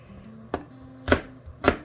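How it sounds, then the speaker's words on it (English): Three sharp knife strikes on a cutting board while shallots are chopped small, spaced about half a second apart, close and crisp with a faint hum between them. "I'm going to chop mine a little smaller"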